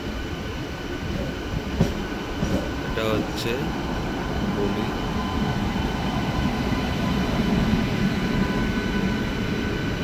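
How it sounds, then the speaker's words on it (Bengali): Gour Express passing at a Kolkata-area station near Dum Dum, a broad steady rumble filling the whole stretch with faint mid-pitched screeches, heard from a halted suburban local train while a voice speaks briefly. "আরেকটা এক্সপ্রেস ট্রেন ঢুকছে"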